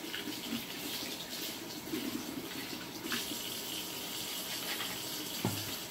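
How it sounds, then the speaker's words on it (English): A kitchen tap runs hot water in a steady, close gush with an even rushing texture that carries on throughout, no voices over it. "Okay, then you're going to run the water until it gets hot."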